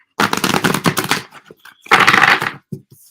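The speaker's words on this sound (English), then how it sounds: "These cards are so old and so used that it's hard to freaking shuffle them." Old, worn tarot cards are shuffled in two quick riffling bursts with a short pause between them, close and crisp.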